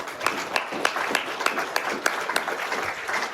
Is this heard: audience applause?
yes